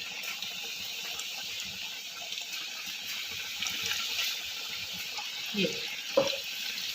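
Masala fish frying in hot oil over a low flame, Lahori restaurant style: a faint, steady sizzling hiss with a couple of soft pops and clicks near the end.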